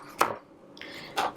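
A knife cuts through a head of cauliflower on a board, making two distinct crunching chops about a second apart with a faint scraping sound between them.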